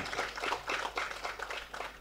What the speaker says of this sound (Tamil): எனக்காக ஒரு தடவை அவருக்கு ஒரு ஜோராக கைத்தட்டுருங்க.